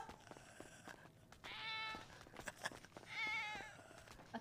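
A person imitates a cat, giving two drawn-out, wavering meows in a playful role-play, each about half a second long, with brief quiet gaps and faint clatter between them.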